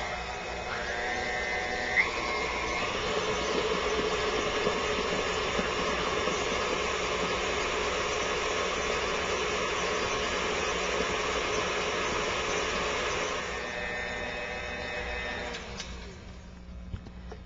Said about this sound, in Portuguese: Deixar bater bem até ficar uma massa bem homogênea.